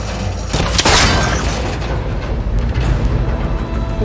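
A connector shot and breaking in the Horizon video game, a sudden loud boom with a brief shattering crack, followed by a rumbling, noisy mechanical background that continues steadily.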